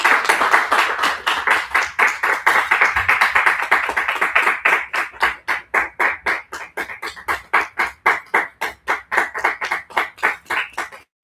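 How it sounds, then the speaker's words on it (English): An audience applauds a featured guest at a talk held in a bookstore. Dense, loud clapping starts at once, then settles into steady rhythmic clapping in unison that fades out near the end. "let's give a big, big round of applause to our feature"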